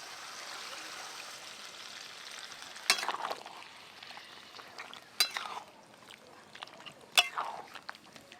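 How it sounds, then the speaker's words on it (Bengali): Marinated mutton fries in hot oil in a wok, a soft steady sizzle with a few sharper bursts of spattering as the meat is stirred, fairly quiet overall. "কড়াতে তেল গরম করে নিয়েছি। এবার ম্যারিনেশন করে মাটন দিয়ে দেব।"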